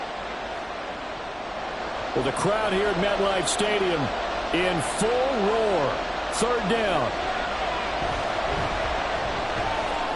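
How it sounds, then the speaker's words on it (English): A stadium crowd roars steadily at MetLife Stadium during an NFL game between the Rams and Giants, a broad, continuous wash of noise beneath a commentator talking throughout. "the crowd here at MetLife Stadium in full roar"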